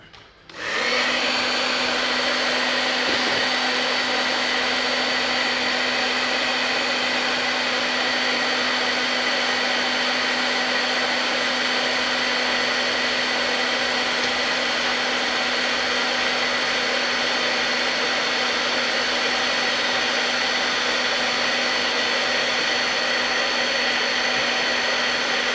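A hot air blower heating a nickel zinc battery runs as a loud, unbroken whooshing whir with a steady hum underneath. It holds constant for the whole stretch after a sudden start.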